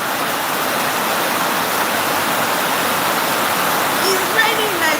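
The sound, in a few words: rain falling in Nigeria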